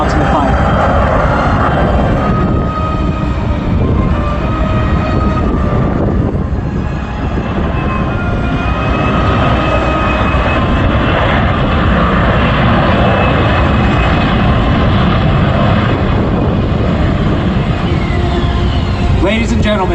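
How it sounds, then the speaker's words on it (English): An AV-8B Harrier jet lands at the Cherry Point air show in its final public demonstration. A loud, continuous engine roar fills the whole stretch, with a voice over the public address speaking on top. "These jets were designed to land on highways, get rearmed, get refueled,"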